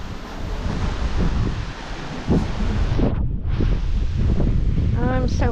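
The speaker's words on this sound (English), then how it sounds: "The wind's tearing up my flowers," Strong gusty wind buffeting the microphone on a porch, a loud continuous roar with low rumbling, briefly dipping before surging again, with a faint voice near the end.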